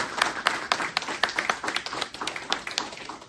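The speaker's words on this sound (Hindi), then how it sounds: "एक बार जोरदार तालियां बजा के।" Clapping from an audience at a bank farmer-outreach event on horticulture training, a loose, rhythmic run of distinct hand claps close to the microphone, about a dozen sharp beats over three seconds.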